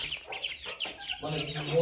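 A hen clucking among chickens and roosters on a Polish backyard farm, a few close, soft clucks in a short burst.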